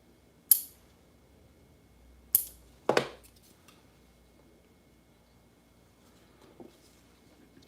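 Small clippers snipping the sides off a square acrylic nail tip, three or four sharp isolated clicks spaced a second or two apart, close and crisp against a quiet background.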